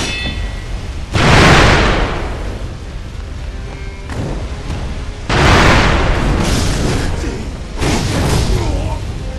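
Firecracker explosions from a boss in Sekiro: Shadows Die Twice, heard as three loud bursts spread over several seconds, each followed by a rumbling tail, with game sound effects between them.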